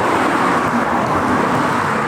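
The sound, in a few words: busy road traffic in Viana do Castelo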